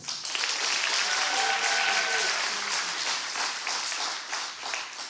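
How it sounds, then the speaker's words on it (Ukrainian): Studio audience at a Ukrainian comedy show breaks into steady, dense applause that holds across the whole stretch, with faint musical tones briefly rising underneath. "Ваші оплески"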